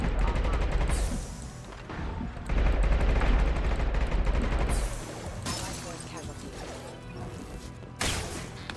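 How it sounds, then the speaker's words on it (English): Video-game gunfire crackles in rapid, sustained bursts with short pauses between volleys, loud and close, while voices talk over the shooting. "Watch where you're shooting."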